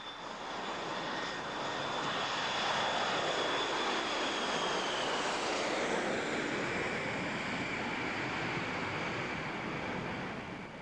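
An airplane flies in an empty sky, its engine a loud, continuous drone that builds and then slowly recedes, with no voices.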